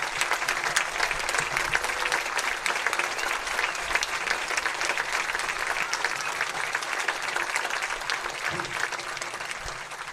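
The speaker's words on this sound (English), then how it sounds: "please stand if able or wave a hand in acknowledgement so we can applaud and honor your dedication to this nation." A crowd at a high school football game applauds military veterans in a loud, dense, continuous ovation that lasts throughout.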